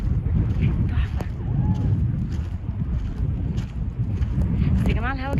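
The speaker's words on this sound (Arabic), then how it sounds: "الهوا جامد قوي" Strong wind gusts roar steadily across the microphone at a seaside spot in Dahab, Egypt, a loud, continuous low rumble with a voice talking over it.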